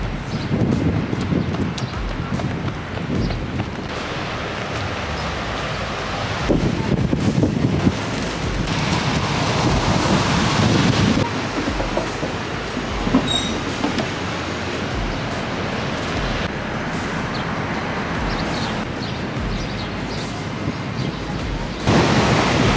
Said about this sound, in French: Il y a encore beaucoup de vent, vous entendez l'océan juste à ma droite.